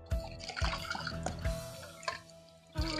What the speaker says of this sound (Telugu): పులుసు వేసుకోవాలి.